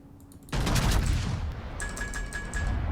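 A warship's main guns firing a salvo in World of Warships, a sudden heavy blast that rolls into a sustained rumbling roar with faint metallic pings trailing behind.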